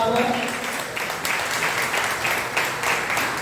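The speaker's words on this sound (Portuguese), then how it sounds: "Você pode aplaudir o Senhor por essa palavra?" Church congregation applauding during a Portuguese-language service, a brief burst of clapping with a voice or music at the start and the applause swelling and continuing to the end.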